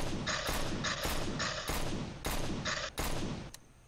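Bursts of gunfire in Garry's Mod, several loud volleys of rapid shots separated by brief pauses, ending with a final single crack and quieter tail.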